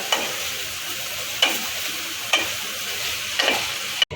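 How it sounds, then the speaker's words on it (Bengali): Soaked potatoes stir-frying in chilli sauce in a pan for crispy chilli potato, a steady sizzle broken by four distinct scraping stirs spaced about a second apart, the last sharp and loud. "ভিজে রাখা আলুগুলোকে দিয়ে দিলাম ভালো করে এবার এটাকে নেড়ে চেড়ে নেব"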